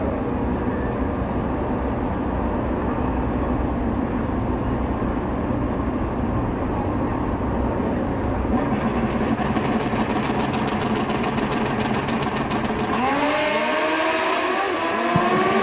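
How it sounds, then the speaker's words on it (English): Motocross bikes race at the Mancup World Finals with loud sustained engine roar throughout, and one bike's engine bogs; toward the end a revving engine rises and falls in pitch nearby. "Eddie Doherty's bike bogs and Eddie just can't get it back."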